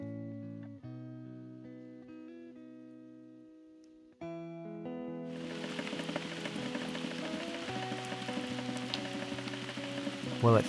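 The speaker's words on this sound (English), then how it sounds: "Well, it finally decided to rain around here." Rain begins falling partway through, a dense, steady hiss of drops arriving abruptly after quieter sustained musical tones and growing slightly louder toward the end.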